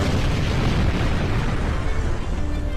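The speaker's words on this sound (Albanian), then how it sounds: "Një sasi e madhe tritoli shpërtheu në derën kryesore duke shkatëruar thuajse tërësisht banesën." A staged reenactment of a large TNT charge exploding at an apartment's main door gives a loud, sustained broadband roar and rumble that fills the whole stretch without speech.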